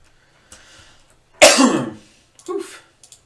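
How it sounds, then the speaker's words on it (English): A single harsh, forceful cough bursts out after a few quiet breathy sounds, followed by a shorter second cough-like sound, close and alone. "Coughing up a storm"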